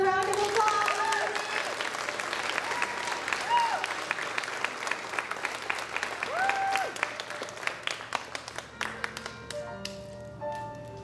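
Applause from a pageant audience for junior contestants, loud and full at first, then thinning into scattered separate claps that trail off toward the end.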